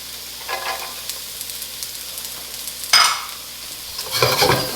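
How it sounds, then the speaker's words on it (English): Carrots sauté in a hot pan for pineapple jerk chicken fried rice, a steady close sizzle that flares louder as the pieces are stirred and tossed, with no talk. "So you wanna saute these"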